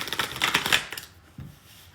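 Tarot cards being shuffled at close range: a quick, crisp riffle of fluttering card flicks lasting under a second, then a soft tap and quiet.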